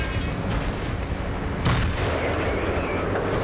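IS-7 heavy tank main gun firing shells in World of Tanks, one sharp, loud, close boom standing out midway over dense, continuous rumbling battle noise and engine drone.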